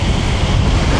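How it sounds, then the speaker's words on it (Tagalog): Heavy rain pours on a scooter ride, a dense, loud hiss of water and wind noise that holds steady throughout the brief moment. "sobrang lakas ng buhos ng ulan"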